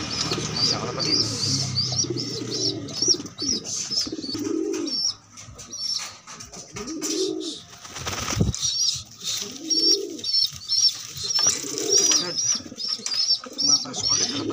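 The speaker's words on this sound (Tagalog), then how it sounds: "Pumapasok agad kalapatids. Pumapasok siya agad kalapatids." Several pigeons coo in repeated low, throaty phrases as they come in to land, with a brief burst of flapping wings midway, occasional high chirps and a person speaking intermittently nearby.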